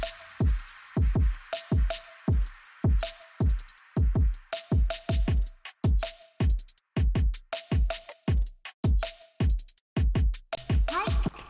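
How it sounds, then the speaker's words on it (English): Layered drum loops for a kawaii future bass track, with punchy kicks, snappy hits, hats and a white-noise percussion loop playing together in a steady, busy electronic rhythm, loud and upfront with a brief melodic tone between hits. "So then here's the drums all together"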